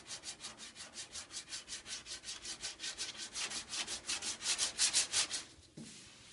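Body filler on a truck cab corner being hand-sanded in steady, rhythmic back-and-forth strokes, close and fairly loud, each pass a scratchy rasp; the strokes build in intensity toward the end and then stop abruptly.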